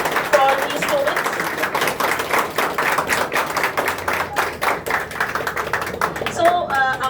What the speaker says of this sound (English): I would please request you all to please give a big round of applause for these students